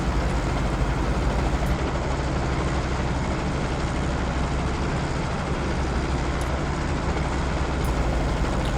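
A Robinson R22 helicopter's piston engine and rotor run in Microsoft Flight Simulator with the throttle rolled up to 75% during run-up checks, giving a loud, steady broadband drone that holds without a break from start to finish.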